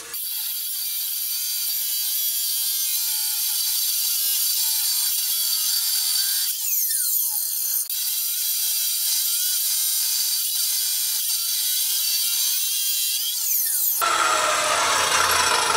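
Motor-driven cutter shaving the housing of a 14 bolt axle for a 1965 Pontiac Catalina Safari 4x4, a continuous high-pitched grinding whine with slight pitch sweeps, changing character near the end.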